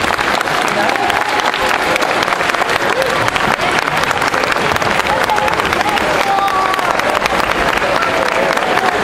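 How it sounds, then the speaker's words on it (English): Audience applause for a visiting senator at a school event, a dense, continuous wash of clapping from a large crowd that stays loud and even throughout, with faint cheers and voices mixed in. "One more huge round of applause for the Senator."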